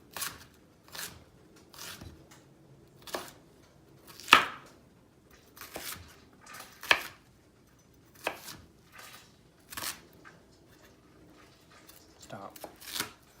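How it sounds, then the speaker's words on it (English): A knife thinly slices leeks on a board in a regular run of crisp cutting strokes, roughly one each second, close and clear, with short pauses between some cuts. "you're just going to slice these really thinly"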